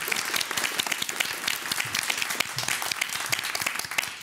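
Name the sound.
audience applause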